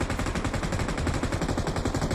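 Rapid, continuous machine gun fire from a video game, dense and loud, a fast rattling stream of shots without pause.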